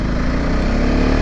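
A new adventure motorcycle's engine drones loudly and steadily while riding, a dense continuous roar with wind noise throughout the short stretch.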